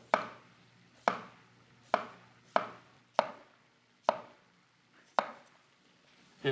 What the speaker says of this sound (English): we're gonna take a cucumber. We're just gonna use 1/2 of it. And just very thin slices.